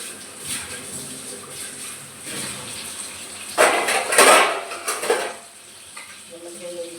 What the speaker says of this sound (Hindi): बर्तन भी मेरे मज गए हैं